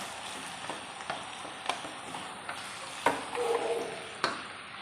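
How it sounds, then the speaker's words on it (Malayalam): Carrots being stirred and sautéed in a pan for carrot pickle give a soft, steady sizzle with occasional scraping knocks of a spoon, fairly quiet and close, with no talk. "പിന്നെ ഇങ്ങനെ നല്ലപോലെ ഇളക്കി നമുക്കൊന്ന് വഴറ്റിയെടുക്കാം."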